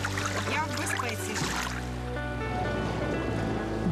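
Boat crossing the Dnipro river near Kaniv toward nearby islands, with a steady broad wash of water and engine rumble throughout, a low droning tone shifting partway through.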